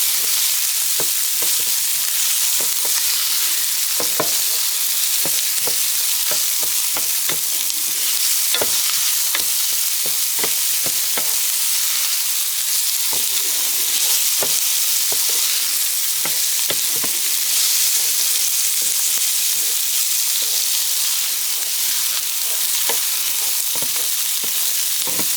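Garlic and onions sautéing in a pot, giving a steady bright sizzle with repeated clacks and scrapes of stirring throughout.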